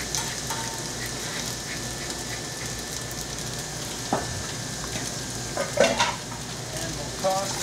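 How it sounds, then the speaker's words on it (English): Carbonara pasta sizzles steadily in a hot pan and is stirred and tossed, with a few louder clinks and scrapes from the pan and utensil over the constant frying hiss. "And we'll toss the carbonara."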